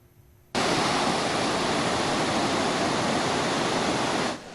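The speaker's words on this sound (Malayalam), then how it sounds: "ഇവിടെ മരങ്ങൾക്കിടയിലൂടെ പാറകളെ തഴുകി വെള്ളം നിറഞ്ഞൊഴുകുന്നത് മനോഹര കാഴ്ചയാണ്." The Aruvikuthu waterfall, swollen after monsoon rain, pours over rocks among trees with a loud, steady, full-bodied roar that starts suddenly and holds unbroken, with no voices.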